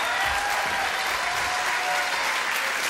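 Studio audience applause on a French TV talk show, a dense, steady roar of clapping that stays loud and continuous throughout, with no voices breaking through.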